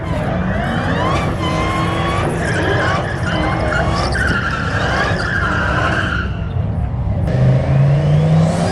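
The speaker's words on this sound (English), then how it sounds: "Gotta love that somebody's racing a Demon 170 out here." A Dodge Demon 170 skids through a rally stage with loud tire squeal and a roaring engine, sliding and revving close by before the sound fades briefly and then returns with a rising whine.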